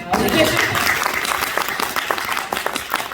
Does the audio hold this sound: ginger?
no